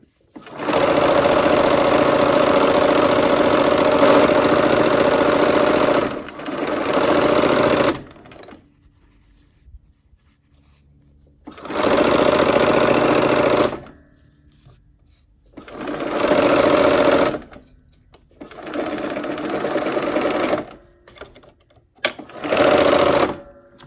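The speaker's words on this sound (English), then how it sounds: "We're going to go ahead and start sewing these rows together." A sewing machine stitches rows of quilt blocks together for a barn quilt sampler. It runs in several loud, steady bursts broken by short quiet pauses, with no talking.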